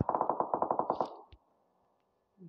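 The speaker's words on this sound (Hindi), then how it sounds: "गोलियां चल रही हैं" A rapid burst of about a dozen PUBG video game gunshots fires in quick succession, followed by a single echoing shot and a short quiet tail.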